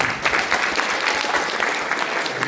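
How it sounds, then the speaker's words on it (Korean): A seated audience claps steadily for a visiting lecturer after a training session, a dense, even patter of many hands sustained throughout at close range, with no talk over it. "지금까지 열띤 강의를 하신 최창수 연수원 교수님께 큰 박수 부탁드립니다."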